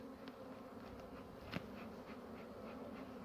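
Honey bees hum in a steady, low drone from an open hive, with a few individual bees buzzing close by against the constant background.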